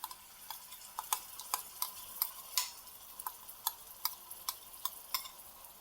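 Spiced yogurt tipped into a hot pan for dahi aloo sabzi and stirred hard, a steady run of sharp spoon scrapes and taps over a soft sizzle, close and fairly quiet, with no talking.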